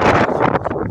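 Strong gusts of wind buffet the microphone, producing a loud, rough rumbling roar for a brief moment.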